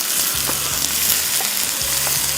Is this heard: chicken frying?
yes